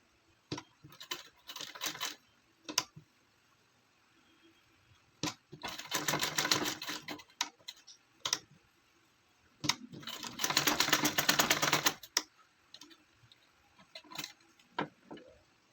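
Bursts of a sewing machine stitching a child's gown come close and sharp, two longer runs of rapid clattering separated by quiet gaps and scattered single clicks and taps.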